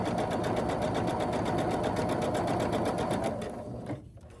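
A sewing machine runs at a steady fast stitching rhythm along a quilt block seam, loud and close, then slows and stops near the end.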